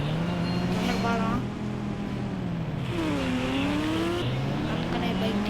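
A motorbike races fast in a shooting video game, a loud continuous engine whine that rises and falls in pitch as it speeds up and shifts.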